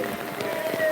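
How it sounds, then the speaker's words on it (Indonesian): Rain pours steadily outdoors at Montong, Narmada, a dense, even hiss of drops striking surfaces that fills the whole short stretch at close range, with no speech over it. "hujan."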